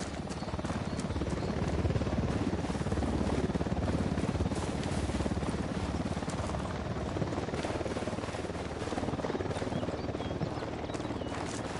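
A helicopter's steady rotor thrum and engine roar in a shooter video game on PS4, loud and continuous throughout, with no speech over it.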